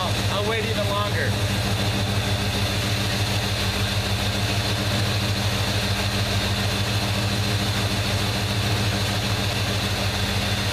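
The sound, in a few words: Chevrolet Suburban engine idling after starting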